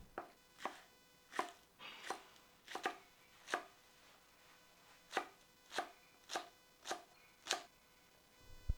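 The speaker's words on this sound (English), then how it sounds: "Next, chop up green onion." A knife chops green onion on a board in slow, separate, crisp strokes, about a dozen sharp thuds spaced unevenly, close and clear against a quiet background.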